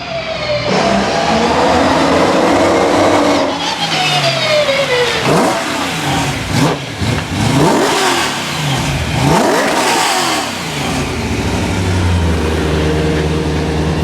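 A BMW E30 M3 track car, DTM-inspired, revs loudly up close with a rough, stumbling misfire. The engine sweeps up and down repeatedly, dips and catches unevenly, and then settles into an idle.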